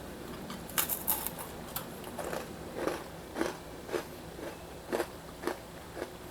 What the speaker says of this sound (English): So I'm just gonna bite one of the kurma for you all to hear how crunchy it is.